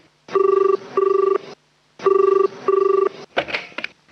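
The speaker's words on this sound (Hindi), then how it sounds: "फोन लेना ही पड़ेगा।" Electronic telephone ring sounding in two double bursts with short gaps, loud and close, followed by a brief clatter as the handset is picked up.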